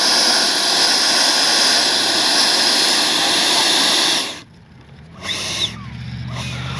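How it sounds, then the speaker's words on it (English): A Freewing 80mm JL-8 RC jet flies past with a loud, steady, high-pitched ducted-fan whine that holds for about four seconds, then cuts off sharply, leaving a quieter low rumble and a brief faint swell. "Man, what a great flying jet."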